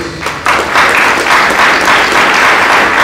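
A church congregation breaks into applause, starting after a short pause and swelling into dense, loud, sustained clapping from many people.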